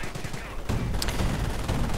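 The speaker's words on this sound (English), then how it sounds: "Bren gunfire is raking the hull of the armored car" Rapid bursts of Bren machine-gun fire in a video game rattle continuously amid battle noise, raking an armored car, with a sharp crack standing out in the middle.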